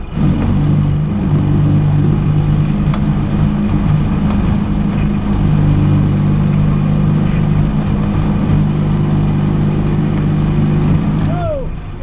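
A tractor's engine runs loud and close in a scrapyard, a steady low rumbling drone with a clank or two near the end.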